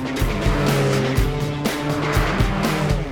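Porsche 718 sports cars driven on a racetrack in Scotland, a loud close engine revving with rhythmic gear-change dips and a hint of tire noise.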